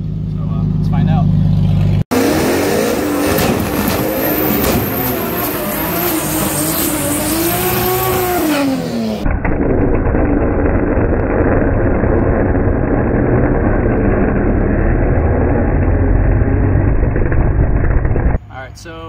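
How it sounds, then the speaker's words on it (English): A race car doing a tire burnout at track testing with tire pressure lowered, the engine revving hard and tires squealing loudly and continuously before settling into a sustained roar, with a voice talking over it. "we tried to do a bigger burnout"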